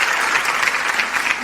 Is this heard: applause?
yes